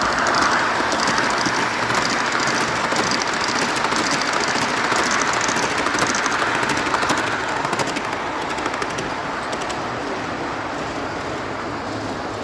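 A G scale model train at a garden railway layout at a large scale train show rolls steadily past with a continuous rumbling clatter of wheels on track, constant and fairly close throughout, easing slightly toward the end.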